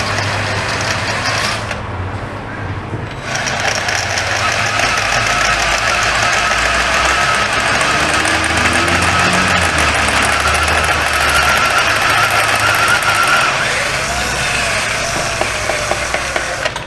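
Drill bit boring out a broken exhaust manifold bolt on a 2020 GMC 2500HD 6.6, a steady grinding whine with rough, scraping texture that runs almost continuously up close, pausing briefly early on.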